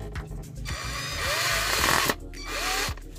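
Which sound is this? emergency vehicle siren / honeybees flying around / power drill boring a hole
power drill boring a hole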